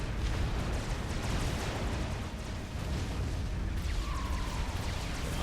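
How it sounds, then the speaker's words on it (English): Bomb blasts and artillery-like booms roll through a video game battle, a dense, continuous rumble of explosions holding steady throughout with a brief dip midway. "First bomb away."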